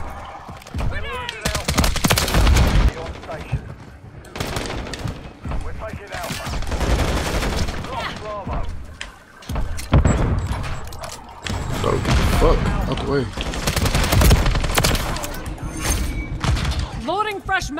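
Near-constant gunfire in Modern Warfare 3, dense overlapping shots and bursts with thuds, loud throughout, with a voice talking over much of it.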